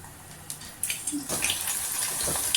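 Ivy gourd pakoda batter drops into hot oil in a kadai, giving a short burst of bubbling, hissing sizzle that grows busier over a couple of seconds.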